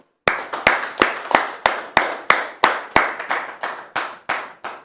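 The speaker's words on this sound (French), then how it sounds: "Applaudissements." Fourteen sharp, evenly spaced claps ring out alone at a steady rhythm, each one loud and close with a short decaying tail, for a French television studio audience.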